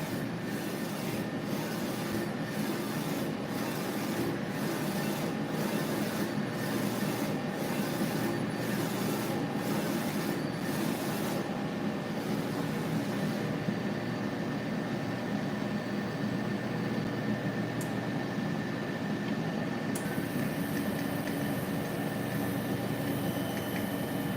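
A Uninet UVDTF 3000 UV printer makes repeated print passes, a steady mechanical whir with evenly spaced rhythmic pulses that fade into a continuous hum partway through.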